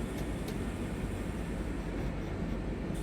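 Train rolling past the yard at Heilbronn in Train Sim World 6, a steady dense rumble of wheels and running gear that holds constant throughout, with a couple of faint higher clicks.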